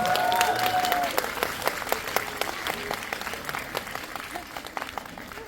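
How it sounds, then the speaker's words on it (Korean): An audience applauds at a Korean film screening and guest talk for the film 문을 여는 법. The clapping from the crowd is full at first, then gradually thins and fades, with a brief whistle-like tone near the start. "여러분 박수 한 번만 주세요."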